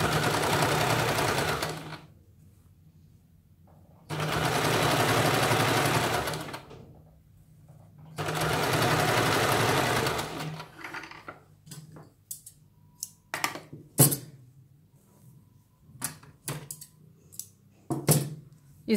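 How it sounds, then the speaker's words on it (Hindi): A sewing machine stitches the seam of a princess-cut blouse in three steady, close bursts of whirring, separated by pauses, then gives way to scattered clicks and handling of the fabric. "यहाँ पे हमें ये सिलाई लगानी है।"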